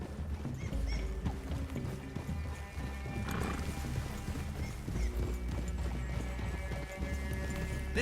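Horses' hooves clip-clop steadily in Red Dead Redemption 2 as riders approach a clearing, with occasional neighs and whinnies over a constant low ambient bed of game sound.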